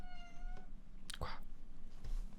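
A pet cat meows once, a short rising call near the start, heard indoors close by under low room noise with faint handling sounds.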